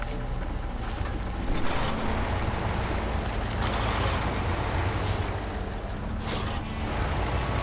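Truck with air brakes in a driving video game gives a steady, loud engine drone, with two sharp bursts of air-brake hiss near the end.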